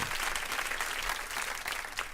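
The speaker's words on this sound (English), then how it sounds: "Hand claps for that." A crowd claps in steady applause at a talk show, a dense continuous patter of many hands that holds at an even level from start to finish, with no speech over it.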